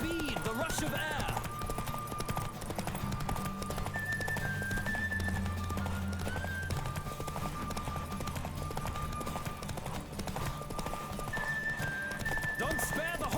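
Hooves clip-clop in a fast, steady gallop during a horse race in the video game The Witcher 3, with musical tones and a character's voice over the rhythmic running.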